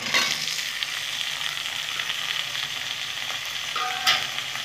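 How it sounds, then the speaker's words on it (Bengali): Cauliflower and potato pieces fry in a pan with an even, close sizzle throughout, plus a couple of brief utensil taps near the end. "কপি আর আলুটা আমি একটু ভেজে নেব।"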